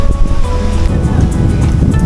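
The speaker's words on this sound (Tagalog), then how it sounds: "Malakas yung alon, tsaka malakas yung hangin." Strong wind and crashing waves at a beach on Boracay roar loudly and continuously, heavy wind buffeting the microphone with deep rumbling surf underneath.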